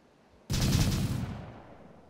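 A loud burst of rapid automatic gunfire in the military shooter game Arma 3, fired in a fast rhythm for about a second before the noise trails off, heard alone without talk.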